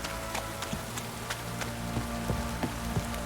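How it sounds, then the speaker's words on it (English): A heavy downpour in The Witcher 3 video game, a dense steady hiss of rain with scattered sharper drops and soft hoof-like thuds repeating close by. "This downpour's a bastard"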